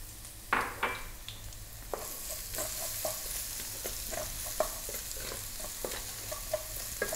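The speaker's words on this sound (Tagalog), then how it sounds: "Magigisa na po tayo." Garlic sizzles in a modest amount of oil in a pan as the base for Filipino chicken curry, a soft steady frying hiss punctuated by the scrape and clack of a utensil stirring against the pan.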